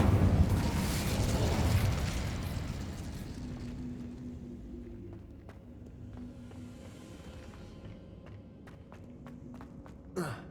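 An Incendio fire spell cast in the video game Hogwarts Legacy roars up as a loud burst of flame, then tapers into a lower crackling rumble with scattered clicks and a final small pop.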